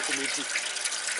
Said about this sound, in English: the dilute juice freely flows into the saucepan